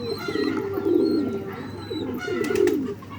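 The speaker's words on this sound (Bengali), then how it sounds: "তো বন্ধুরা দেখতেই পাচ্ছ সব পায়রা ডাকাডাকি করছে" Pigeons at a loft, including a Madras pigeon, give low rolling coos in overlapping phrases with a few faint chirps, close and moderately loud against a steady low hum.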